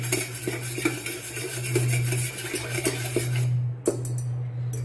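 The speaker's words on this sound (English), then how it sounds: "Now I'm whisking together all my ingredients" Ingredients for a homemade popsicle mixture being whisked in a metal pot, a steady scraping and clinking of the whisk against the pan with a low hum underneath.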